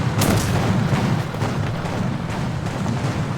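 A deep, booming tank cannon shot in War Thunder arcade gameplay with Japanese vehicles hits right at the start, then gives way to a continuous low rumbling battle din.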